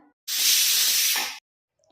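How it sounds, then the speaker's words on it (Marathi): A pressure cooker cooking peas in water lets out a single loud, steady hiss of steam lasting about a second, then stops. "कुकरमध्ये आता थोडंसं पाणी घालून वाटाणा शिजवून घ्यायचंय आहे दोन शिट्ट्या काढून घ्यायच्यात"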